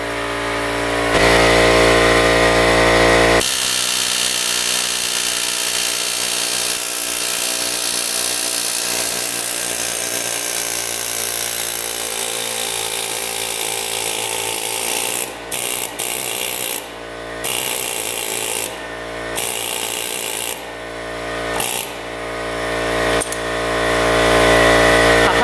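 Working on a seized part of a YFZ 450 ATV with an air hammer, a loud continuous mechanical rattling that runs for over ten seconds, then breaks into short stuttering bursts separated by brief pauses.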